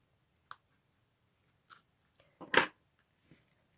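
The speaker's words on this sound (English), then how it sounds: "So I'm just going in with my scissors." A few sharp, close snips of scissors trimming bulky felt from a felt flower decoration, spaced out with quiet pauses between them and one louder cluster of cuts.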